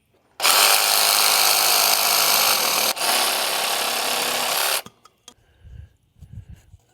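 A pool pump's pipe fitting is cut off with a small hand tool rather than a reciprocating saw, a loud continuous close-up grinding rasp lasting about four seconds with a brief dip midway, then a few faint knocks and handling sounds.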